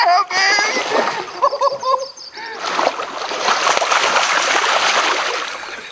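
A hooked fish leaps and splashes in the water during remote Alaska fishing, a burst of splashing and trickling after excited talk from people nearby.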